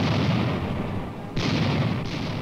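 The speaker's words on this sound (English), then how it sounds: "Entire villages of kulaks are wiped out by Soviet cannon fire." Soviet artillery cannon fire in a 1960s documentary, heard as a sustained, loud rumbling barrage of distant booms with two sharper bursts cutting in, no speech over it.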